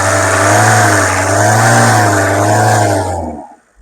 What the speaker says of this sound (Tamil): நல்லா ரேஸ் பண்ணுப்பா.